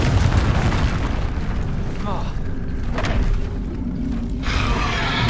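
A Bombarda spell blast in Hogwarts Legacy, a dense booming explosion that rumbles loudly through the clip amid other game effects, with a brief sharper burst late on.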